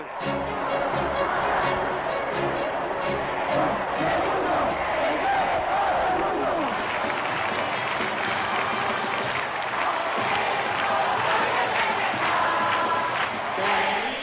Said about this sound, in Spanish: todo el Bernabéu estalló en un clamor